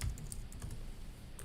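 Quiet typing on a computer keyboard, a few soft key clicks over a faint background hum, with no one speaking.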